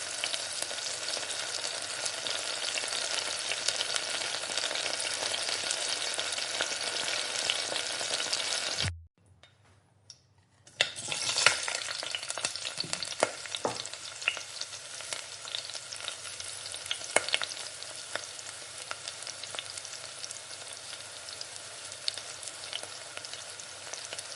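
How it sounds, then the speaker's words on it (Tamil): Peeled garlic cloves sauté in hot oil for tomato thokku with a steady sizzle. It cuts out for about two seconds, then returns with stirring scrapes and pops, and no voices are heard. "பூண்டு உரித்து வச்சுருக்க பூண்டையும் சேர்த்து நல்லா வதக்கிக்கோங்க."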